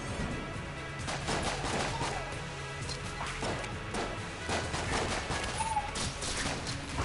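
Single Action Army revolver shots in a PS4 video game, repeated bursty cracks amid dense game noise and clatter, moderately loud throughout with no clear gaps.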